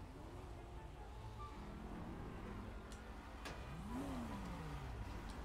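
A car revving and driving in the online game GTA V, its engine note rising and falling steadily amid game noise, with a pitch sweep near the end.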